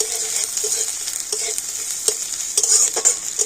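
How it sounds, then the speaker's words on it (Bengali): Ginger and chillies stir-fried in a pan, a bright steady sizzle with repeated scraping and knocking strokes of the spatula, close and loud with no talk. "এবার আমি একটু সব কিছু নাড়াচাড়া করে একটু ভেজে নেব"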